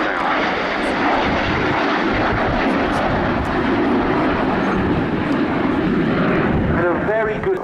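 Messerschmitt Me 262 jet fighter at the RIAT 2023 airshow, a loud, steady engine roar with broad rumble throughout, rising whine near the end, with voices talking over it.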